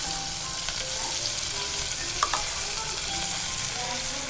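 A green paste frying in a pan for green fried rice makes a bright, constant sizzle with light stirring scrapes and a brief clink midway, close and unbroken, without speech.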